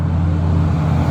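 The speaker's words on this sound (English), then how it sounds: "I think that gives you a pretty good feel for kind of the traffic sound here on the road" Road traffic rolling past a house on Third Street in Tillamook, a loud, close, continuous low engine and tyre rumble that fills the whole stretch.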